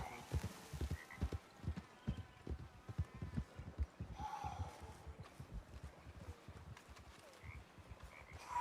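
Horse hooves clip-clop in Red Dead Redemption 2, a steady, fairly close run of hoofbeats with croaking frogs and night ambience around them and no talking.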